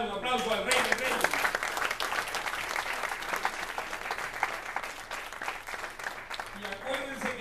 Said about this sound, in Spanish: Vamos a darle un aplauso al Rey de Reyes